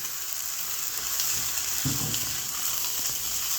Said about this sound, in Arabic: تقليبه كده يتشوح بس مع البصله